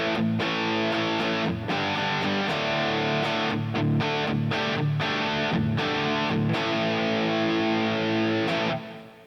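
A distorted electric guitar plays a sustained riff through heavy effects, with delay and reverb trailing the chords, loud and steady throughout with no talking.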